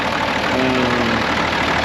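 A vintage tractor engine idles close by in a loud, continuous rumble with an even, slightly knocking chug and no other sounds.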